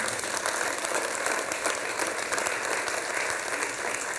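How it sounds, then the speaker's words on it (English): An audience at a University of Washington town hall claps steadily, a dense, even burst of applause lasting the whole few seconds with no talking over it. "Go ahead and clap."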